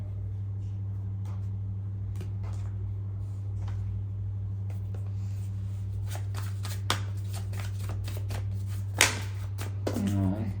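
Tarot cards are shuffled by hand in a close, quiet room, giving a run of soft riffling and slapping card sounds that quicken into a dense burst near the end, over a steady low electrical hum.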